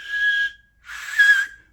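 A loud, pure whistle made without fingers, with the tongue pushed forward and arched, sounds as two sustained high notes separated by a brief pause, close and alone.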